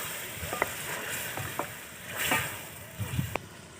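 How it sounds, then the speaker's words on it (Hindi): Marinated chicken frying lightly in oil in a pan, a soft sizzle with a few scattered clinks and scrapes of stirring, fairly quiet and close. "मैरिनेट किया हुआ चिकन ऐड करेंगे। चिकन को भी हल्का सा फ्राई कर लेंगे।"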